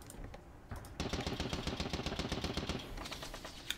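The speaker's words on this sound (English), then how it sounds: "the machine gun though can fire at something, the one with more men" Machine gun fire in The Battle of Lyck, an East Prussia 1914 wargame: a rapid, steady stream of close rattling shots for a few seconds, then tapering off, with no talk.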